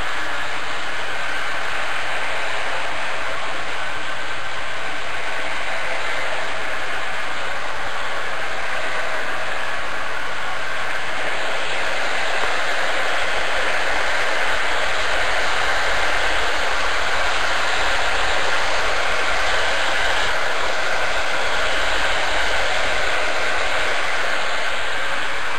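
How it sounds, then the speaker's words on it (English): A heat gun blows a steady, loud rush of hot air against a warping metal panel, a continuous broadband hiss with a low motor hum underneath, holding level throughout without talk. "now I'll switch this to cool and cool the ceramic inside the heat gun"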